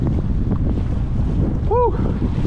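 Strong wind roars steadily over open saltwater during inshore kayak fishing, buffeting the microphone with a constant low rumble and a brief high chirp partway through.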